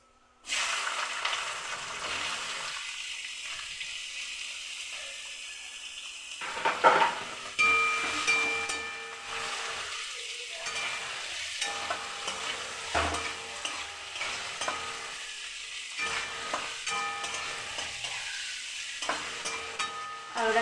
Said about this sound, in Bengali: এই যে আমি আলুটা ভেজে নেব।